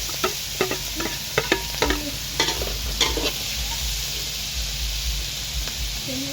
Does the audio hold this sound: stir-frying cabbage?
yes